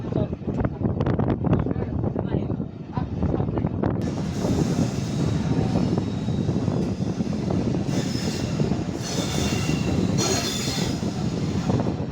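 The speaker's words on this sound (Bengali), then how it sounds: "মংলা কমিউটার ট্রেন তার তিন মিনিটে যাত্রাবিরতি শেষ করে মোহাম্মদনগর রেল স্টেশন ছেড়ে যাচ্ছে" Mongla commuter train leaving Mohammadnagar railway station, a loud continuous rumble of rolling wagons with rhythmic wheel clatter and bursts of high wheel squeal building toward the end.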